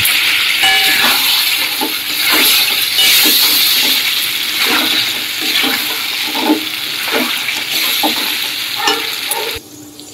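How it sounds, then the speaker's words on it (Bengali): Water splashes into frying spice masala for a potato curry, giving a loud, continuous sizzle and hiss with scraping stirring strokes, then ending abruptly near the end. "যেহেতু কষা কষা করবো তাই মানে বেশি কষাও না আবার তেল টেলে ঝোলও না, ওর জন্যই অল্প জল দিলাম।"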